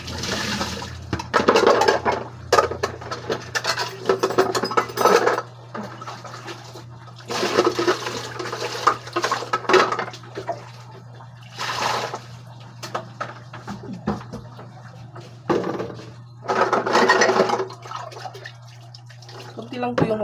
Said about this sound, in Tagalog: Kunti lang po yung hugasan, kaya ayan.